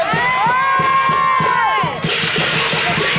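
A crowd of children shouts loudly and continuously during a shouting contest at a holiday camp, a dense, sustained roar of voices with a rising whoop, close and steady throughout.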